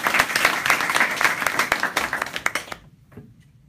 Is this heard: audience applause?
yes